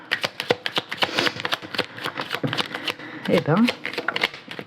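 Tarot cards being shuffled for a reading, a rapid run of crisp riffling flicks and slaps, close and fairly loud, with a person talking over them.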